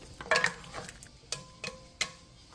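A spoon stirs braising chestnuts, sweet potato and carrots in a pot over medium heat, making soft scraping knocks and a few sharper taps against the pot, spaced irregularly over a faint low simmer.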